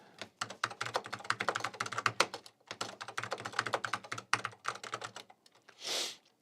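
Quick bursts of typing on an old Mac keyboard, close and crisp, with dense runs of key clicks split by a brief pause and a softer swish near the end.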